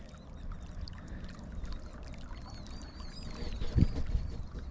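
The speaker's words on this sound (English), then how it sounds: "you can really see how the water comes out" Irrigation water pours from a pipe into a dike as a steady, close rush of water, with faint bird chirps above it and a short low thump near the end.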